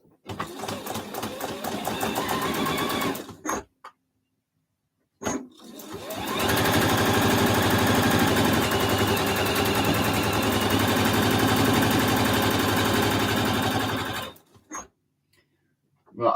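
Sewing machine stitching the seams of a quilt block in two long steady runs of rapid mechanical stitching, close and loud, separated by a pause of near silence and ending with a brief restart.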